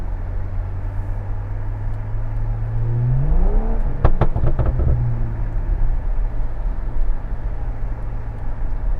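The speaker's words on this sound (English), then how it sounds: "This lane has quite a bit of snow on it. It's bogging down the car," A BMW 535i drives through a snowy lane, its engine rumbling low and steady, then surging and bogging down with a rising drone and a burst of clunks partway through, close and continuous.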